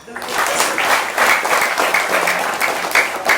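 A crowd claps steadily for a few seconds, dense and fairly loud, with a bit of murmuring mixed in, at an Islamic religious gathering.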